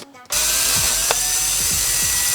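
A small power drill whirs steadily as it bores a hole in an RC car's honeycomb chassis, starting abruptly and running for about two seconds, with faint ticking and rattles beneath the whine.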